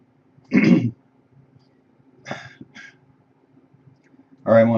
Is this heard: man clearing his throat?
yes